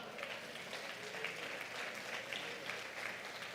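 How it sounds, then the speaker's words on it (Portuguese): A church congregation at an evangelical service in Brasília applauds in a steady, dense wash of clapping that holds evenly throughout, with no speech over it. "Aplauda Jesus."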